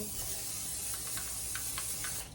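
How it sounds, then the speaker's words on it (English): A steady, soft hiss of a coconut oil aerosol cooking spray running for a couple of seconds, close by, with faint clicks and no voices. "I'm gonna spray with coconut oil"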